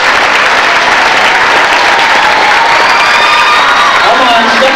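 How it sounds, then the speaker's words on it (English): Loud, steady applause from a school concert audience in Brockton, Massachusetts, a dense wash of clapping that holds for the whole stretch with some crowd noise mixed in. "Let's give them a round of applause also."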